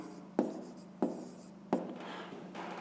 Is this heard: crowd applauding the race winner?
no